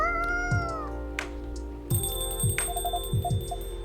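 A cat meows a few times in the Coffee Talk 2 game, short soft mews mixed with ringing, phone-like chime tones and light background music, with no talking.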